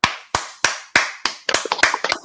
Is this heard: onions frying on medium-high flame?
no